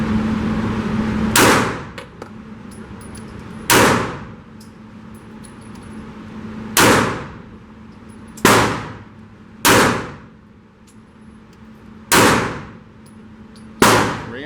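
A Walther PDP full-size pistol fires Fiocchi ammunition in seven loud, sharp shots at uneven intervals. Each shot rings with a short decaying echo, and faint outdoor noise fills the gaps.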